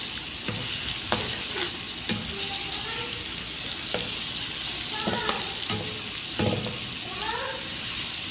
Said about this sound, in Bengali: আদা রসুন বাটা দিয়ে আর একটু ভাজবো যাতে কাঁচা গন্ধটা চলে যায়